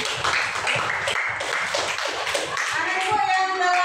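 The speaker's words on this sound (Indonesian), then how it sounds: "Tepuk tangan dulu untuk Marsa." Children clapping together in a primary school mathematics classroom, uneven close clapping of a small group, with kids' voices and a teacher's speech mixed in and a tonal ring near the end.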